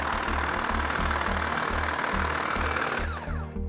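A motorized garden cutter with oscillating blades runs with a steady rapid buzzing chatter, close and continuous, before cutting off at the end.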